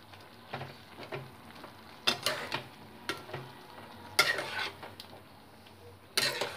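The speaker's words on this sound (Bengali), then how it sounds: "মিশিয়ে নেব।" A spoon stirs broccoli potato curry with coriander leaves in a pan, giving soft scraping and clinking strokes at irregular intervals over a faint, quiet background sizzle.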